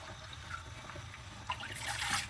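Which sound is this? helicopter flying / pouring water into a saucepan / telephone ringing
pouring water into a saucepan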